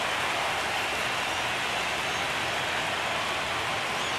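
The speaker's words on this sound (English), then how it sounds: "It feels like we might be headed towards a rain delay if the weather doesn't ease up, Chris." Steady rain pours down at a college baseball championship game between Delaware State and Penn State, a constant broad hiss of drops with no break and no voices.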